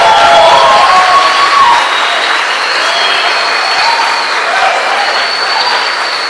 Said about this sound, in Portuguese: Você pode recebê-lo com carinho,